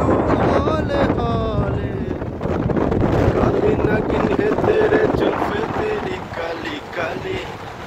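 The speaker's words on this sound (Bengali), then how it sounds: "ওরে বাতাস" Strong wind buffets the microphone on a boat crossing Kaptai Lake. It roars loudly and almost continuously, under voices and some melodic singing.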